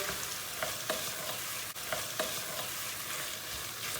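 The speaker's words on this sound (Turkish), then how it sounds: "Salça ile beraber, kıyma ile beraber domates biberi de bir kavuracağız." Minced meat sautés with tomato paste, tomatoes and peppers in a pan, giving a steady close sizzle broken by a few scraping stirs of a utensil, with no talk over it.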